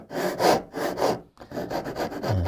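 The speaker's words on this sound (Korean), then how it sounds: "마찬가지로 톱질을 하는 거죠" A hand saw cuts wood for a dovetail joint, with steady back-and-forth rasping strokes about twice per second, close and loud, briefly pausing midway before resuming.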